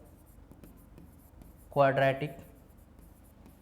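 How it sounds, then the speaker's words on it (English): A maths lesson on quadratic polynomials, with faint scratchy strokes of writing on a board spread through the clip and a single spoken word from a man in the middle. "We will write it here."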